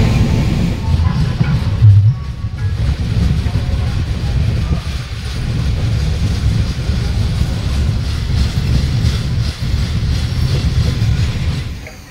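The Samudra Kanya Express runs from Puri toward Digha, a steady loud rumble of wheels and carriages with faint rhythmic clatter throughout, heard from on board.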